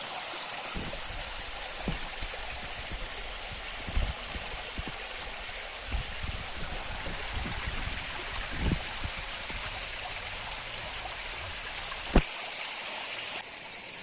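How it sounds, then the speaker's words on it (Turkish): Rainwater runs steadily in a heavy downpour out on a mushroom-hunting trip, a constant close rushing trickle with scattered louder drips and splashes breaking through, one sharp drop standing out near the end. "Yağmur sularının güzelliğine bakın arkadaşlar ne kadar güzel ses yapıyor"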